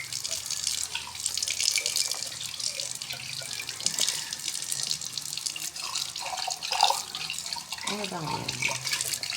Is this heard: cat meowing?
no